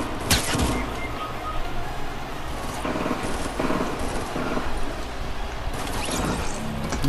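Loud, continuous gunfire and battle noise fill a battle royale video game, with several sharper bursts standing out against a dense, steady wash of shots and mechanical clatter.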